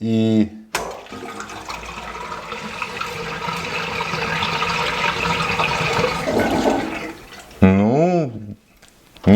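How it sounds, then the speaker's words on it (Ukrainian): Water runs steadily through a sink drain after its siphon has been cleaned, a broad rushing pour for about seven seconds, with brief speech and other sounds at the start and end. "І зараз ми пустимо воду."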